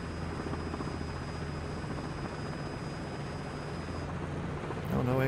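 Steady droning rotor and engine hum of a helicopter in a flight simulator video game, constant and moderately loud throughout, with a short high whine near the end.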